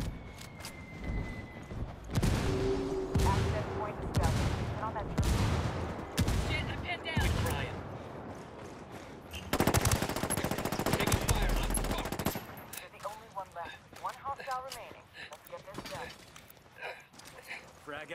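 Automatic rifle fire and bursts of gunshots in the Ghost Recon Wildlands military shooter, loud and repeated in clustered volleys with a heavy stretch near the middle, mixed with other game sounds.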